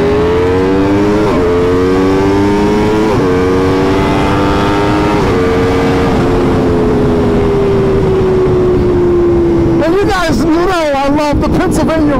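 Superbike engines, a Kawasaki Ninja H2 and an Aprilia RSV4, drone steadily and loudly on a Pennsylvania ride, with rising pitch shifts through the gears before sharp revving bursts near the end.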